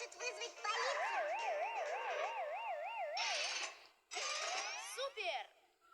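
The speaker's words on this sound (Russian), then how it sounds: "сигнализация включается, сирена начинает выть, а лампочка мигать" A cartoon alarm siren wails in a smooth, loud rising-and-falling howl, joined by busy electronic chirps, then cuts off briefly before a second burst of sweeping electronic tones.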